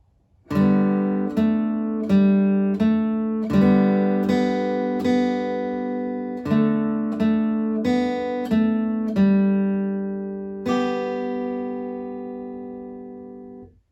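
The fourth line of 'Good Night Ladies' on guitar, a clear sequence of single plucked notes and paired high notes in an even rhythm, close and solo, the last note left ringing.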